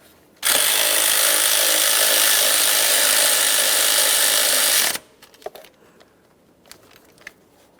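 A 13mm intake manifold mounting bolt on a 2007-2017 Jeep Patriot 2.4L four-cylinder is run down with a power tool in one loud, steady whir of about four and a half seconds, followed by faint ratchet clicks and light handling.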